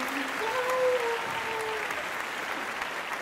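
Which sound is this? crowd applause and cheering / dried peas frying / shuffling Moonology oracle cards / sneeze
crowd applause and cheering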